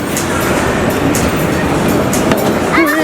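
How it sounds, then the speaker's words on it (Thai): An electric train rolls past near a Bangkok planetarium, a loud steady rumble with rail clatter and brief higher squeals, close by and continuous throughout. "รถไฟฟ้า"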